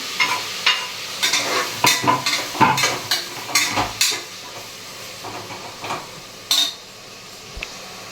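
Chopped tomatoes go into ginger and garlic already sautéed in a pan. Close, brisk spatula scrapes and metal clinks come in an uneven rhythm over a steady sizzle, with no talking.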